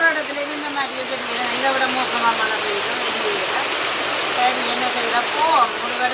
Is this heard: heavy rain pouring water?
yes